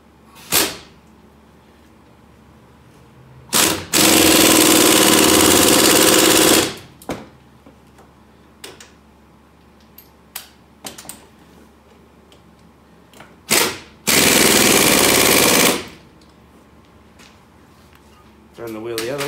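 Hub assembly bolts being tightened on a 2007 Saturn Ion, two long loud ratcheting or impact bursts of a few seconds each, with scattered clicks and knocks of tools between them, close and clear.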